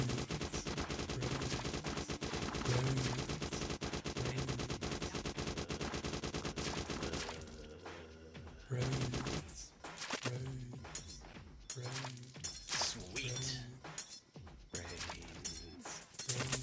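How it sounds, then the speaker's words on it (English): Rapid machine-gun fire with exploding bullets in the Boxhead: The Zombie Wars game, a dense continuous barrage that breaks into shorter bursts with cracking, shattering impacts toward the end, with no talking. "Good thing I have these zombie exploding bullets."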